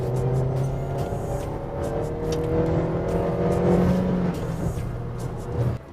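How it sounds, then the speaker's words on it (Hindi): Honda WR-V facelift engine revved hard, a steady loud drone with rising and falling pitch as the revs climb and hold, heard from inside the car with no talk. "सो एक और बार मैं आपको दिखाता हूँ यहाँ पे हार्ड रेव करके।"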